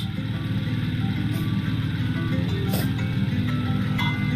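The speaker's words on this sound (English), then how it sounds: "All right, there's a truck." A truck engine in a Roblox Piggy film rumbles loudly and steadily nearby, a continuous low drone with no voices.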